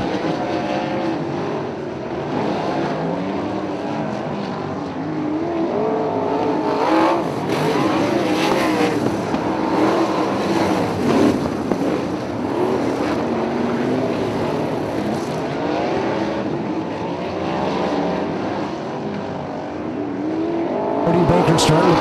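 Sprint cars race around a dirt oval in a feature event, their engines a loud continuous roar rising and falling as they pass, with an announcer talking over the noise throughout.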